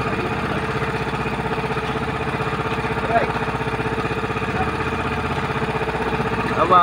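A boat motor on a tuna fishing trip runs steadily at a mid-pitched, continuous drone, close and loud throughout with a slight rhythmic throb and no pauses.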